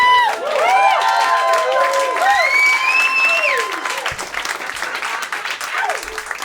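A comedy club audience at a stand-up show bursts into loud applause and whooping cheers, dense clapping with rising shouts that hold steady, then thin slightly toward the end.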